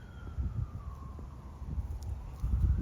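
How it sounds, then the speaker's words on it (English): A distant siren wails faintly in the background, its tone slowly sliding, over low rumbling street noise. "She's too busy hearing the sirens."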